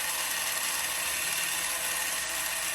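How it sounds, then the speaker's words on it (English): A mechanical Dolly Seamstress toy with a sewing machine mechanism runs with a dense, continuous whirring and rattling, close and steady throughout. "Moving the cloth side to side, head movement, foot movement, sewing machine, spinning, light changing colors."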